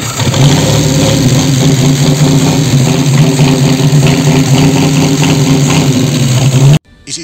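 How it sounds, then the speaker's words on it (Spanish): The restored engine of a 1973 Ford Falcon runs loud and steady after starting, a close, rough idle with a strong low drone that cuts off abruptly near the end. "el motor del Falcon arrancó"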